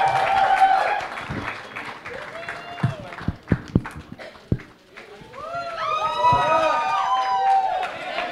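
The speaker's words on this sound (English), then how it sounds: "Let's have a big round of applause for the global superstar, Priyanka Chopra." A crowd applauds and cheers at a press conference for a Marathi film, with scattered sharp claps, rising whistles and excited shouts mixed with voices, swelling loudest near the end.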